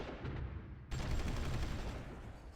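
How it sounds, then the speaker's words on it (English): Artillery firing in the strategy game Supreme Ruler Ultimate: a sudden loud onset of dense, rumbling booms and crackle that continues steadily after a quieter, muffled stretch. "The artillery is still firing at someone."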